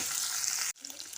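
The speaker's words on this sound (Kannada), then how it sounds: "ಸದ್ಯಕ್ಕೆ ಈಗ ಸ್ವಲ್ಪ ಫ್ರೈ ಮಾಡಿದರೆ ಸಾಕು." Ground masala and grated coconut fry in a pan with a steady hiss of sizzling that cuts off abruptly, then resumes more quietly.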